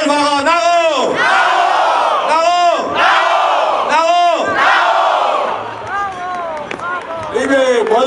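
Loud carnival crowd chanting a threefold "Mulbacher" call at a Swabian-Alemannic fools' guild gathering in Kisslegg, with rhythmic rising shouts repeated three times in quick succession, followed by a fading murmur and scattered voices.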